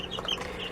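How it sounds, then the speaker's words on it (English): Backyard chickens in their coop in the morning just after feeding, soft clucking and low murmuring calls close by over a steady rustle, with no people talking. "these are my birds, and it is the morning, so I just got through feeding them."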